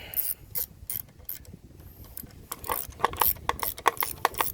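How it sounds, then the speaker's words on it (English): Ratchet wrench tightening 10mm bolts on a Honda engine carburetor: rapid, close mechanical clicking in bursts, loudest near the end, with no talk. "you could tighten up the 10mm bolts"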